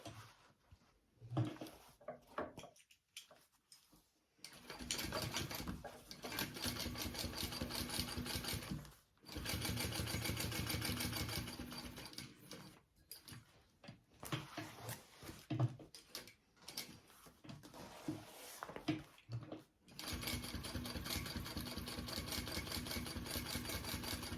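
Sewing machine topstitching an Eira tote bag, running in several steady bursts of a few seconds each, separated by short pauses and handling noises.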